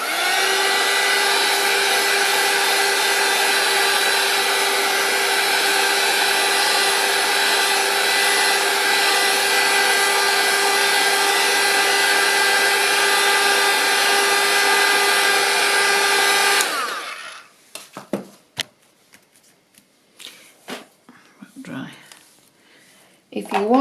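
A handheld dryer blows hot air over paint on a craft card, a loud, steady whirring hum for about seventeen seconds before switching off, followed by quiet close tapping and handling of paper.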